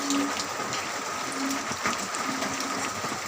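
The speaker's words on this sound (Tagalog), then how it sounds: "So, grabe yung ulan, hindi na tumitigil" Steady, dense hiss of heavy rain pours continuously throughout, filling an outdoor fish tub, with a faint tonal hum running underneath.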